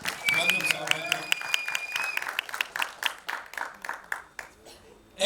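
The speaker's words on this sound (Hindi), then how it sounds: "यशपाल शर्मा साहब के लिए जोरदार तालियां" An audience applauds to welcome actor Yashpal Sharma, with dense close clapping and a whistle at first that thins into scattered, uneven claps before a final burst, mixed with some voices.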